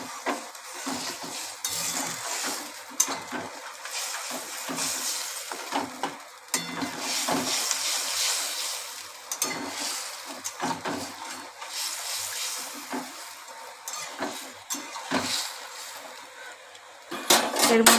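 Hilsa fish curry in a pan being stirred, with scraping and clinking of a utensil against the pan as the liquid bubbles and sizzles in an irregular rhythm over a steady background noise.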